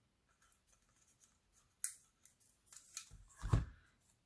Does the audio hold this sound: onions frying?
no